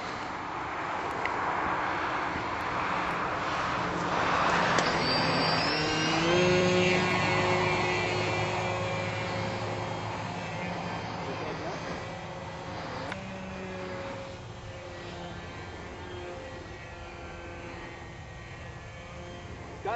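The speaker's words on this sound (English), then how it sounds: "Gotta be one of the better seaplanes I've ever seen." A model seaplane flies overhead with a steady buzzing motor whose pitch rises and falls as it passes, heard outdoors over wind noise and a constant background drone.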